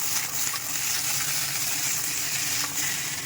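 Okra and vegetables sizzle and fry in a home-kitchen pan as salt and turmeric are stirred in, a steady bright hiss with a few soft scraping stirs and no voices.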